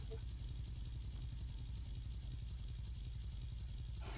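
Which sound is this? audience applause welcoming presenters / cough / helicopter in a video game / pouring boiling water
helicopter in a video game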